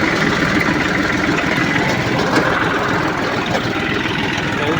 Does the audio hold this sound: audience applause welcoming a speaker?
no